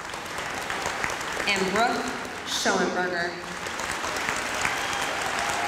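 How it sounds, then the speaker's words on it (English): Steady applause from a middle school audience for principal's award winners at an 8th grade recognition ceremony, a broad wash of clapping with a voice speaking over it. "A huge round of applause for these, our principal's award winners"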